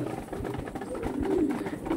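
Pigeons coo softly in a loft, low throaty calls rolling one into another over a steady background murmur.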